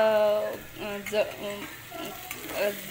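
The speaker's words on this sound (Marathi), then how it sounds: "त्यासाठी कांद्याला सतत परतवायचं" Onions being stirred and fried in a pan for egg bhurji, a soft sizzle with scraping stirs heard under a voice talking.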